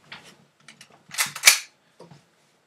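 BB gun fired at a card: a single sharp snap stands out among faint handling clicks and rustles, close and fairly quiet, with no talking.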